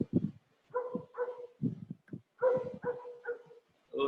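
A dog barks repeatedly during an online English class, a string of close, sharp woofs and yips in irregular bursts with short gaps between them, and no talking over them.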